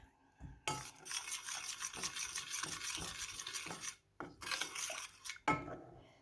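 A spoon scraping and stirring Thai fish-kidney curry with coconut milk in a pot, close rhythmic rasping strokes in two bursts with a short pause between, no voices.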